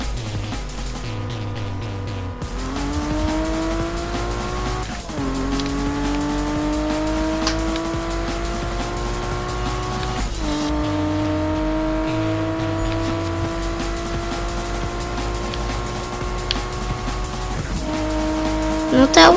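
Racing car in the Need for Speed video game, engine revving up through repeated gear shifts with rising pitch, a faint tire squeal, loud and continuous under game music.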